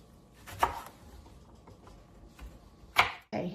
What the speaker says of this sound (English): Get a rough chop.